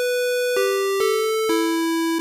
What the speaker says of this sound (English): this is going to have a brighter sound than our sine wave, as you can hear